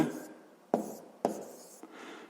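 Handwriting a greatest-common-divisor step for a 6th-grade math exercise: quiet, close scratchy pen strokes in a few bursts, with sharp onsets separated by brief pauses and no talking.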